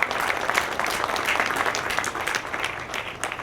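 An audience at a groundbreaking ceremony for a new MetroLink station claps in a short burst of steady applause with no voices over it.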